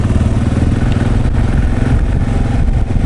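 A motorcycle engine pulls in second gear on an Indian summer ride, a loud, close, steady mechanical drone with rhythmic throb and slight clatter, no voices.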